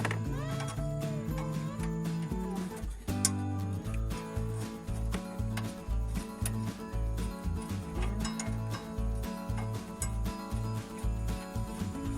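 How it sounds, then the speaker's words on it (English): Ratchet with a 13mm socket unscrewing a radiator bolt on a Jaguar X-type, giving a steady run of close, rhythmic clicking strokes over a tonal mechanical hum. "I just unscrew it with a 13mm socket."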